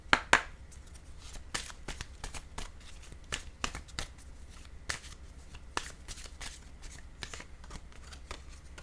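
A deck of playing cards is shuffled and riffled close by, giving a run of quick crisp paper snaps and flutters over a soft steady hum, with no voices.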